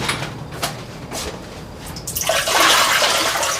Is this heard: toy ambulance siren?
no